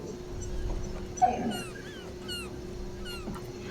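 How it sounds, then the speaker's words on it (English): A dog whimpers in the background, a few thin high whines repeating in short bursts over a low steady hum, faint and somewhat distant, with a short louder knock partway through. "is that the dog that I hear?"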